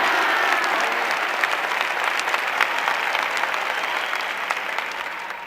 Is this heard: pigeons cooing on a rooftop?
no